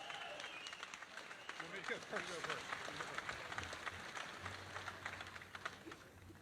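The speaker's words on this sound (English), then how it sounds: "Give them a big round of applause" Faint, distant applause from an outdoor pro-gun rally crowd in Ohio, scattered clapping mixed with murmuring voices and crowd noise.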